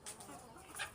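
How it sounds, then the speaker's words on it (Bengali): Chickens kept on a rooftop give short clucks, with a couple of brighter bursts near the start and end over steady background noise. "এই যে মুরগিগুলো"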